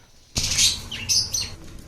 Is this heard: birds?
yes